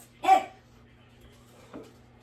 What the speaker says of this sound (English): Quit barking at Ice and go upstairs.